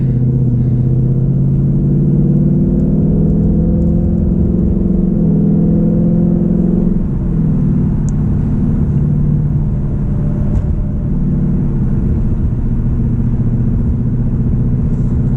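Big truck engine rolling past, a loud, deep rumbling drone that holds steady and then shifts lower in pitch partway through as it goes by, with no talking.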